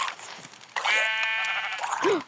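A sheep in Minecraft bleats in a long wavering cry, preceded by a short hiss-like rustle and ending with a brief rising tone.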